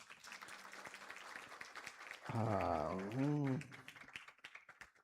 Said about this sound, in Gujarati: બાપા જય માટે તાળી પાડો એક વખત.